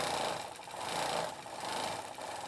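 A sewing machine hums and rattles continuously while quilting a quilt, a steady mid-level mechanical drone with slight swells in loudness and no speech.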